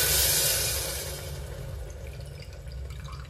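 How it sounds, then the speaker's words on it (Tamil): A tumbler of water is poured into a pot for one-pot rasam rice, making a steady, close splashing rush that eases off slightly as the pour continues. "1 டம்ளர் தண்ணி ஊற்றியாச்சு"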